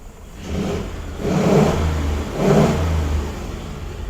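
Close, fairly loud 1935 Ford engine idling with a low rumble, then revving up twice in swelling bursts before settling back, no voices over it.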